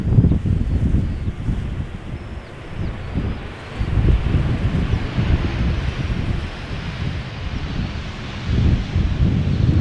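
Strong wind buffets an outdoor microphone at Schiphol Airport, a loud, gusty low rumble that swells and eases in waves for the whole stretch, with no voices.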